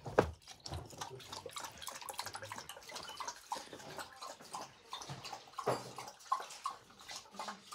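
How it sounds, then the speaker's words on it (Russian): Water runs and splashes quietly into a barrel, with irregular gurgles and drips, close but faint. "Бочонок водой дополняется."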